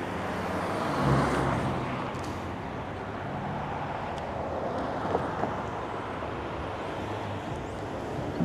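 Road traffic in town rolls past at a moderate distance, a continuous low rumbling roar of cars with a slight swell near the start and no clear individual passes standing out.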